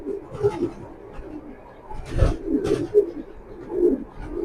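Soft cooing from racing pigeons comes in a few low, rolling bursts, close and fairly quiet, with pauses between the calls and no voices.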